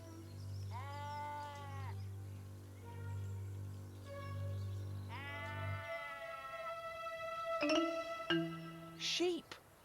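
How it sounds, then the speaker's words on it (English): Sheep wandered in from a neighbouring farm bleat in a garden with several wavering, nasal calls close by, one after another, over a steady low hum, ending with a few short higher cries. "Sheep in my garden."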